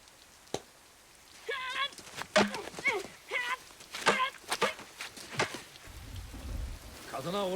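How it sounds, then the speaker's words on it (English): Rain falls steadily in a scene from The Last Samurai (2003), a soft hiss and patter under quiet speaking voices and occasional thumps. "I love the fact it's raining right now."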